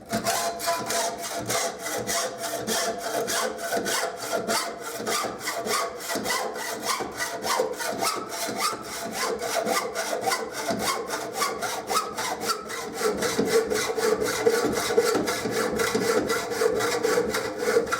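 A hacksaw cuts steadily through a metal tube with fast, even back-and-forth rasping strokes, close and continuous, the tone shifting toward the end as the blade breaks through the tube wall; no talking.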